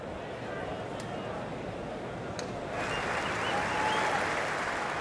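A cricket crowd applauds bowler Adam Dale during a 1998–99 one-day match between Australia and England, a steady broad wash of clapping that swells slightly, with a commentator talking over it.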